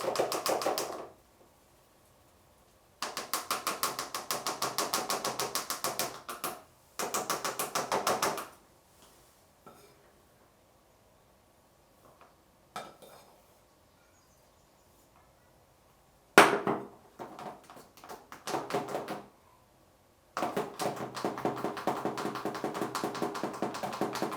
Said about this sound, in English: So we sieve our flour first.